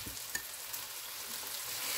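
Garlic and onion frying in unsalted butter with olive oil, giving a steady soft sizzle and crackle that swells slightly toward the end, with no voices.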